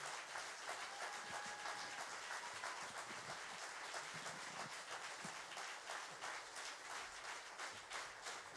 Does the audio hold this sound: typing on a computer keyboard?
no